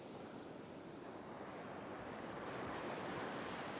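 Ocean waves crashing onto a sandbar at a sunny beach while fishing, a continuous broad roar of surf and washing water, loud and close, with wind noise and no talking.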